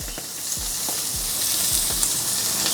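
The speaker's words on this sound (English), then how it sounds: "I can tell looking at this thing, it's gonna get some good lines on it, some good searing." Steak searing on a Weber Q 2800N gas grill, a steady close hiss of frying fat with soft pops and a few low thumps, no voices.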